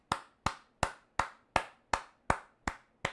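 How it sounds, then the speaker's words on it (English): A single pair of hands claps nine times in an even, steady rhythm, each clap sharp and close with a short decay, giving a sparse mock round of applause in an otherwise quiet room. "Give a round of applause for the comment section."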